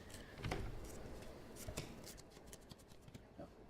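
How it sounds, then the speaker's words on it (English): Playing cards are dealt out one by one into piles for a 21-card trick, making soft, quick flicking and slapping taps on a table, faint and close. "this time you can deal the cards out like so"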